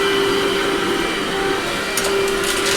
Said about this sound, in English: she is running vacuuming now for all of the offices